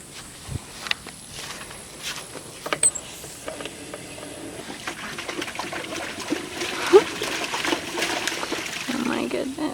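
A dog splashes in a farm water trough: intermittent sloshing, trickling and splashes, growing busier toward the end, with people talking nearby.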